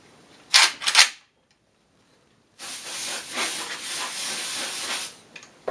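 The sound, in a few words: compressed air can spraying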